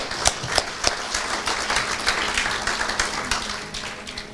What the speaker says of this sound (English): a final round of applause for all of the students